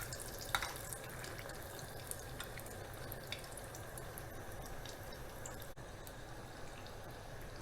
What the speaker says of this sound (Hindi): अब इसमें एक एक करके हम बॉल को डालेंगे।